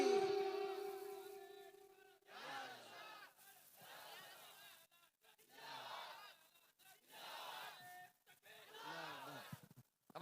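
Crowd at an Islamic religious sermon shouting the takbir chant in reply to a preacher, loud repeated bursts of many voices with short pauses between them.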